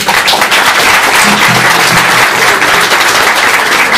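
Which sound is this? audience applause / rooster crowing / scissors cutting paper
audience applause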